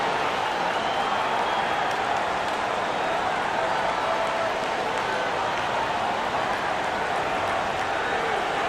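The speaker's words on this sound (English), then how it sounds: "Let's give a round of applause." A basketball arena crowd applauds during an NBA game between the Los Angeles Lakers and Los Angeles Clippers. The clapping is a dense, even wash of sound, steady throughout and heard from within the crowd.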